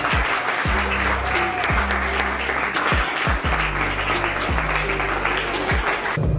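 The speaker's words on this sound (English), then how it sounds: "Please applause her and I would like the students to clap" Loud, sustained applause from students at a college felicitation ceremony for PUC toppers, dense clapping close by, with a low periodic thumping underneath throughout.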